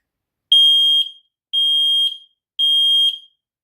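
Three loud, piercing electronic alarm bursts from a TechniSat Smoke Sensor 2 smoke detector being tested, each about half a second long with short gaps, sounding alone and close.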